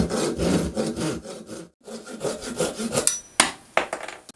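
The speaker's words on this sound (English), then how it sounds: "Now all I got to do is cut the PVC so it'll fit on there" A hand saw cuts through PVC pipe in rapid back-and-forth strokes, close and distinct, with a short pause midway before the strokes resume and finish.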